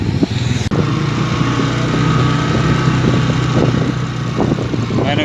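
Steady engine drone and road rumble from a motorbike ridden along a main road toward a temple, loud and continuous throughout with no talking.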